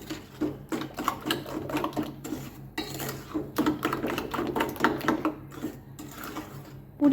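A pudding mixture with a pinch of salt being whisked in a bowl, rapid irregular clinking and scraping strokes close up, with brief pauses between bursts.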